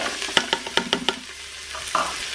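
Red onion sautéing in hot vegetable oil in a Cosori 5.7L pressure cooker, with a quick run of sharp spoon taps and scrapes over a steady sizzle, close and fairly loud, then a softer stir, with no voices.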